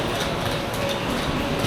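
A regional double-decker train at a station platform in Germany gives off a steady, continuous low rumble with broadband noise, heard at moderate loudness with no talk.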